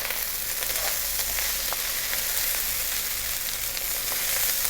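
Rice with okra fries and browns in a hot pan, giving a continuous, even sizzle with faint crackles throughout and no talking.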